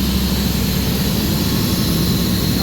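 A rebuilt Caterpillar C7 diesel engine, showing a sensor fault, idles steadily and loudly with a constant low rumble and a broadband roar throughout, no voices.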